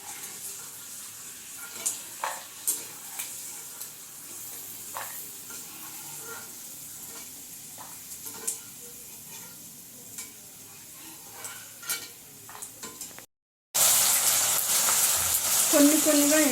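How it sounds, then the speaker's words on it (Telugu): Okra slices frying in oil in a pan with stirring, soft scraping taps and gentle sizzle throughout, then a loud, steady hiss takes over after a brief cutoff near the end. "కొన్నిగా వేయించుకున్నామండి."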